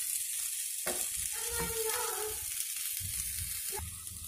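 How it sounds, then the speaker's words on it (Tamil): Kurma stirred into egg kothu chapati frying in a pan: a steady sizzle runs throughout, with scraping and clattering from the stirring, close and fairly loud, with no talking. "இப்போ வந்து இந்த குருமா வந்து இதில் ஆட் பண்ணிட்டேன்."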